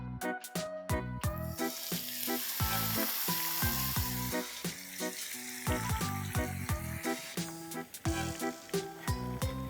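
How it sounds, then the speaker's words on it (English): Spinach leaves frying in hot oil, a loud bubbling sizzle with rapid sharp crackles and pops that run steadily throughout, close up with no talk. "Similarly, let's start frying the rest of the spinach."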